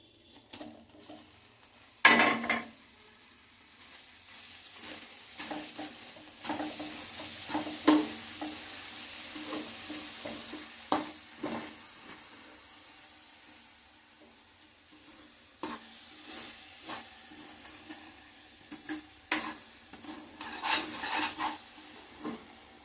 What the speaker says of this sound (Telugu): తీగపాకం వచ్చిందండి, కొబ్బరి వేసుకుందాం.